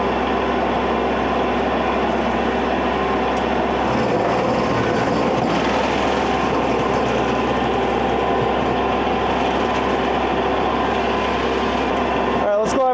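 A tractor-mounted forestry mulcher runs loud and steady, churning through small trees roughly 3 to 5 inches thick, with a continuous heavy engine drone and grinding roar throughout and a brief rattling burst near the end.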